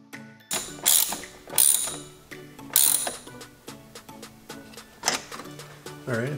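Hose clamps being tightened on a BMW N54 charge pipe give a series of sharp ratcheting clicks and metallic ticks in uneven bursts, close and fairly loud, with no talking.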